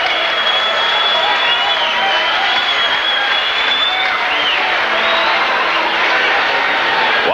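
A boxing arena crowd roars, cheers and applauds continuously at the end of a women's professional bout, a loud, sustained wash of noise with whistles rising above it.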